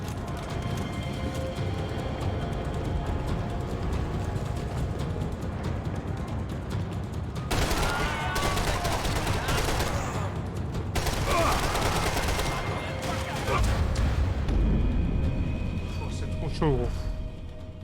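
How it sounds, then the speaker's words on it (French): Enemy gunfire in a video game, heard as sustained, dense rattling bursts that run through the whole stretch, swelling louder in the middle and near the end against a constant noisy game backdrop. "À peine il apparaît, il me tire déjà dessus."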